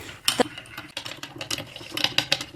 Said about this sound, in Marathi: दही आपल्याला पूर्ण फेटून घ्यायचं आहे